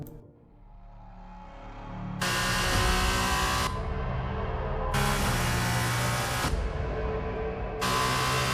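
Formula 2 race cars from the 2019 championship in F1 2021, engines roaring loud and steady after a quieter start, with high-pitched whines surging and cutting in repeated bursts as cars pass.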